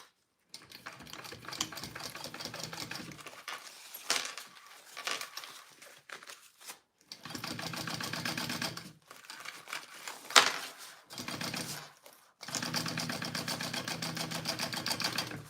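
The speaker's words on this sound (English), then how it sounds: "now I'm just going to baste the rest of this gusset so it's just one big circle" Sewing machine basting the gusset of a handmade bag into one circle, running in several steady whirring stretches of stitching separated by short pauses, close and clear with no talking.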